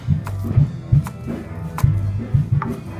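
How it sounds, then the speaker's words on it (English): Knife chopping green onions on a cutting board for ramen, a brisk run of sharp, close thuds in an uneven rhythm, about a dozen strikes with no talking. "So we're gonna chop these up and separate them"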